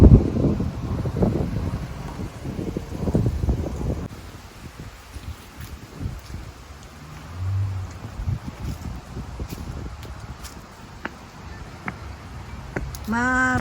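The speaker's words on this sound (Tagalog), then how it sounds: "It's so nice out. But it's windy." Gusty wind buffeting the microphone outdoors at the Toronto Botanical Garden in fall, with rumbling low bursts and a steady rustle throughout, loudest in the first few seconds.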